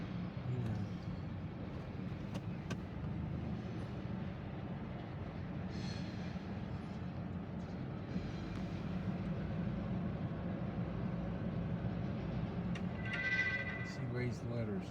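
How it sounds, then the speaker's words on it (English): A Norfolk Southern freight train rolls on tracks overhead, giving a steady low rumble and rattle of railcars throughout, with faint squeals and clanks from the wheels. "I don't like running under here when the train's moving up there on it."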